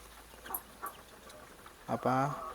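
Muscovy ducks in a pen give a few faint short calls, then one louder, raspy, harmonic call near the end, with low background noise and someone talking nearby.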